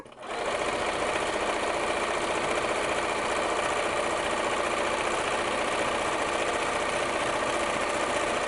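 A sewing machine stitches a stippling pattern across a fabric junk-journal cover, its fast, steady mechanical whir running continuously and close.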